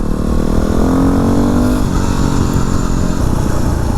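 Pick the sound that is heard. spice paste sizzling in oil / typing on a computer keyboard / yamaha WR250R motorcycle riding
yamaha WR250R motorcycle riding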